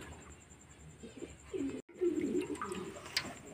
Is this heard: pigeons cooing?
yes